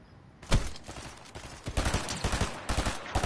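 Gunfire and sniper shots in a creative-map shooter game: a sharp loud shot, then bursts of rapid shots growing denser, mostly close.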